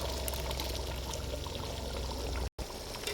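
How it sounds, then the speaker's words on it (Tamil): Ground coconut paste poured into a pan of Chettinad chicken masala, a steady wet pouring and trickling sound up close, continuous for about two and a half seconds before a brief break. "தேங்காய் பேஸ்ட்டு ஊற்றிடலாம்."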